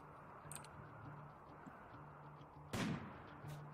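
A single sharp gunshot cracks out in Rimworld, a loud broadband burst near the end over a low steady hum and faint ticking, with a smaller pop shortly after.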